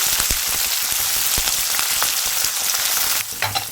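Chopped green chillies and onion frying in hot oil for capsicum poha upma, a dense, loud, crackling sizzle that runs continuously and eases slightly near the end, heard close with no voices.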